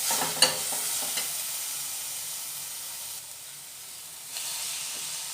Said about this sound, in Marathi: आता बटाटा जो आहे तो सगळा आपण परतून घेऊयात